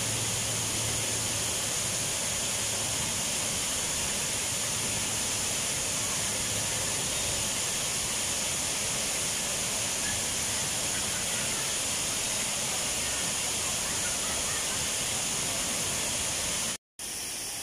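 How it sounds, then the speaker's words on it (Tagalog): The Hinulugang Taktak waterfall roars as a dense, continuous rush of falling water, loud and steady throughout, with no voices heard. "napakaganda po ng waterfalls po dito"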